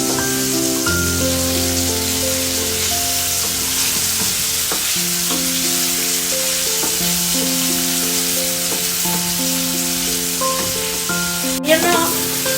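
Chicken pieces frying in a pan give a loud, steady sizzling hiss up close, with occasional scrapes and shifts of the pieces and a sharp metallic clink near the end; nobody speaks.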